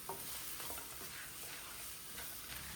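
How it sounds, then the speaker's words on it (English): A wooden spoon stirs vegetables, mushrooms and chopped green beans in a soup pot for minestrone, with a soft continuous sizzle and faint scraping heard close by. "Give it a good mix round with a wooden spoon"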